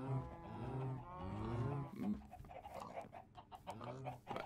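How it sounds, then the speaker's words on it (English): Cow lowing from a Minecraft cow, several drawn-out harmonic moos in a row, fairly close and clear, with softer game noise between them. "I'll admit, it sounds more cow-like than what it did."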